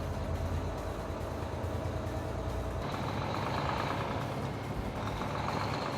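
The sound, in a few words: Volvo truck with I-Shift transmission shifting gears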